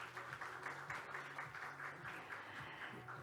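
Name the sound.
audience applause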